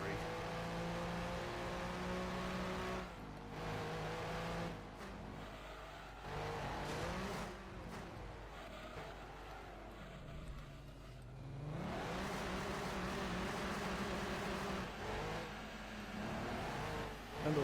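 A race car engine in Gran Turismo 2 revs and roars almost without a break, pitch climbing through gears and dropping at shifts, with a brief lull midway before the snarl rises again; a voice talks faintly underneath.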